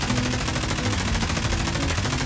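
Sustained rapid automatic fire from an unsuppressed M4 rifle in Escape from Tarkov, loud and continuous with no pauses, a dense unbroken stream of shots.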